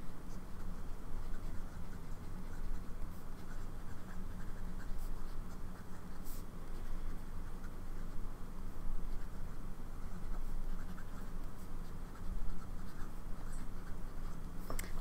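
A Sailor fountain pen with a medium-fine nib, inked with Montblanc Corn Poppy Red, writing on paper, giving a faint, continuous close-up scratching with small strokes and taps and no speech.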